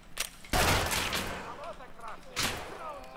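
Shotgun blasts in the shooter Escape from Tarkov: Arena, two sharp loud reports about two seconds apart, each with a short decaying tail, and someone talking between them.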